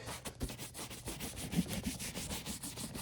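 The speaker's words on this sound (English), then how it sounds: "Then I take the regular horsehair brush and I do it again." Horsehair brush sweeping over leather Chelsea boots in quick, regular back-and-forth strokes, a dry close-up scrubbing rhythm with no talk.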